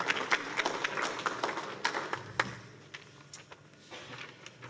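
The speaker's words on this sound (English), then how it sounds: "One more round of applause for Rachel and Sam." Scattered clapping from a small audience, a patter of hand claps that thins out and fades over a few seconds, heard at moderate distance.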